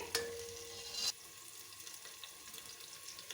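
Onion and green chillies frying in a pan for urad dal khichdi, a soft, steady sizzle after a brief louder clatter at the start.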